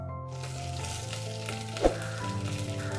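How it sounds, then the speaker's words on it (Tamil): Vadagam hits hot sesame oil and sizzles loudly and continuously, with a sharp clink of a utensil midway through the steady crackle. "இப்ப எண்ணெய் நல்லா சூடாயிடுச்சு, வடகம் போட்டுக்கலாம்."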